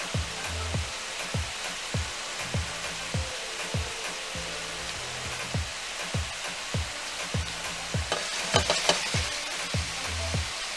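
Ground beef browning in a pan for cheesy beef enchiladas, a steady close sizzle with a rhythmic series of scraping stirs from a spatula throughout, no voices.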